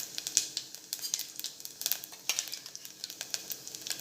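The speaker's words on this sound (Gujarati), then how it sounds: "હવે એમાં આપણે જીરું એડ કરીશું જીરાને તતરવા દઈશું" Cumin seeds crackle and sizzle in hot oil and ghee, a quiet, busy patter of sharp pops and spits continuing throughout with no voices.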